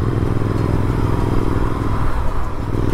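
A motorbike climbs a mountain road toward Hikkim and Langza in the Spiti Valley, its engine droning steadily and close throughout with a constant rumble and rushing wind noise.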